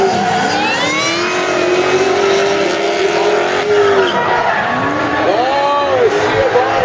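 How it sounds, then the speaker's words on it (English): Formula D Pro Am drift cars at Palm Beach International Raceway skidding with long, wavering tire squeals and revving engines, loud and continuous, with commentary running over them. "Near the straightaway as Jody Lejeune and Jason Giovanni initiate that first clip"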